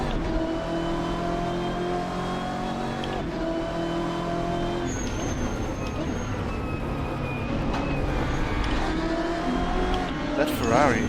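A BMW M8 race car in Assetto Corsa at Road Atlanta, its engine droning steadily with shifting pitch as it accelerates and lifts, loud and continuous throughout, with someone talking over it.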